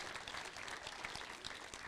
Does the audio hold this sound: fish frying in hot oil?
no